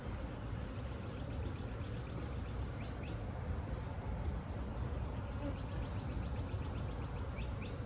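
Honey bees buzz at a beehive during a spring inspection, a dense steady hum from many bees, fairly faint and continuous, with no talking.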